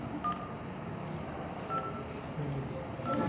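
DTMF keypad tones as a mobile phone number is entered, a few short separated beeps over a steady background hum.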